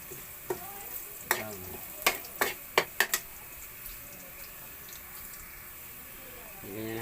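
Chicken browning in a pan for a Filipino chicken dish with pechay and tomatoes, heard as a steady low sizzle under several sharp metallic clinks and scrapes of stirring, then a louder swell of frying near the end.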